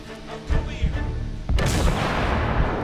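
A grenade explosion in The Order: 1886, a loud booming blast about halfway through that follows scattered gunfire and rumbles on with a long noisy tail.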